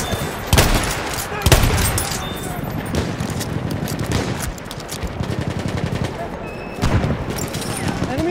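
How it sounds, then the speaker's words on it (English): Rapid machine gun bursts and scattered gunshots in a Battlefield 1 firefight in the Argonne Forest, loud and sustained across the whole stretch with sharp louder blasts and battlefield shouting mixed in. "Enemy machine gun over there."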